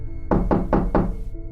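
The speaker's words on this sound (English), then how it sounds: "only to wake up to the knocking again." Knocking in a horror story: four heavy, evenly spaced knocks ring out close, each decaying briefly, over a steady low background hum.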